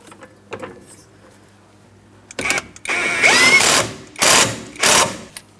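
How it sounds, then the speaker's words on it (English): Close, loud ratcheting bursts from a wrench tightening a rear suspension bolt on a 2003-2007 Cadillac CTS, three or four strong runs after a quiet start with faint background noise. "we'll tighten this and then torque it to 111 foot-pounds"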